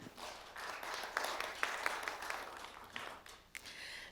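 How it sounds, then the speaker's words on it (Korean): An audience at a 2021 Incheon startup demo day gives a fairly faint round of applause, a scattered, uneven patter of clapping with a few sharper claps, fading briefly near the end. "큰 박수 부탁드리겠습니다"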